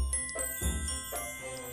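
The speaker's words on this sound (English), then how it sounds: "That was the sound of the magic story drawer." A magic story drawer sound effect from a children's storytime show, a short light jingle with tinkling chimes and a few soft swells over about two seconds, heard alone.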